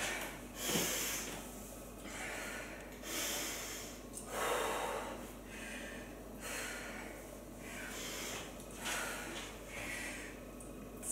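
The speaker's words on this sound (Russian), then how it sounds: "Вдох-выдох. Восстановили дыхание." Someone recovering after a CrossFit workout, taking deep, audible breaths in and out in a slow rhythm of roughly seven breaths, close to the microphone, with no speech.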